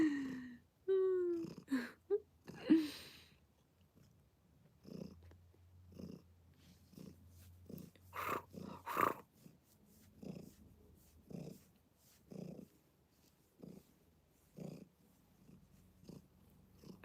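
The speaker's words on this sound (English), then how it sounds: "Y'all can hear her purr?" A female cat purrs softly and close by, a low rumbling purr that comes in short, uneven bursts with quiet gaps and a few faint snuffles between them.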